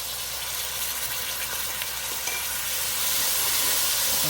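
Mint chutney with chilli and pepper powders sizzles in a frying pan, giving a steady, even hiss that carries on without a break and grows slightly stronger toward the end.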